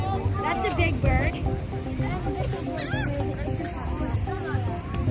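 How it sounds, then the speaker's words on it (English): Large bird, likely a goose, honking repeatedly on a beach amid steady crowd babble and people talking nearby; the honks come in short bursts, fairly loud over the background. "That's a big bird."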